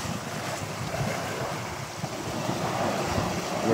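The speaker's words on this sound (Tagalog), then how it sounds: "yung hampas ng alon." Continuous rush of ocean surf with wind buffeting the microphone, a steady broadband roar that swells slightly toward the end.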